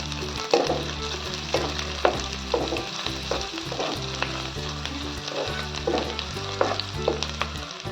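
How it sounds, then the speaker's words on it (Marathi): Green chili stirred in a frying pan while cooking a village-style gram-leaf bhaji, a steady loud sizzle broken by repeated scraping stirs at a regular pace, close up with no voices. "मिरची टाकून त्याला छान मिक्स करूया"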